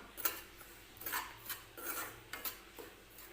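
Semolina being stirred and roasted in oil in a pan: soft, rhythmic scraping strokes of a spoon against the pan, about seven quiet sweeps in a steady back-and-forth pattern.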